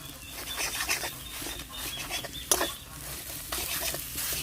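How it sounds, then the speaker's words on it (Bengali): Ground lentil paste fries in a pan as it is stirred hard, producing a soft, constant sizzle with scraping strokes and an occasional sharp clink, all at low volume with no talk. "ভালো করে একটু জোর জোড়ো করে ভালো করে ভেজে নেব ডালটা"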